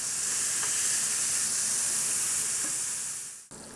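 Flipped burger patties sizzle in a hot pan, a loud, steady, close frying hiss that holds unbroken for over three seconds before cutting off abruptly, with no talk.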